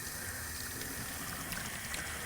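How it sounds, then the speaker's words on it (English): Water rinsing a car air-conditioning evaporator from an Acura Vigor, a steady, faint, hissing spray that keeps going without a break for the whole brief stretch. "Now it's time to rinse it off."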